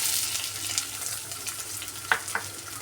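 Onion, one medium red onion, frying in about two teaspoons of hot oil for semiya upma, giving a steady soft sizzle with light stirring scrapes and a couple of brief clinks near the end.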